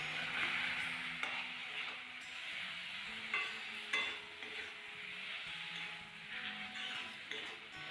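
Eggplant added to fried spices in a pan for a Bengali bean curry, giving a steady sizzle and frying hiss with occasional stirring clinks, close and alone without talk.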